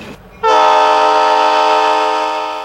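Potomac Eagle tourist train on the South Branch Valley Railroad in West Virginia sounds its horn: one loud, sustained chord that starts abruptly and holds steady, fading slightly at the end, with no voices.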